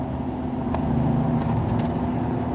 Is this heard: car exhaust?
yes